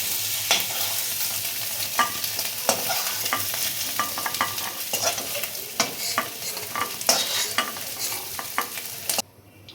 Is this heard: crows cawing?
no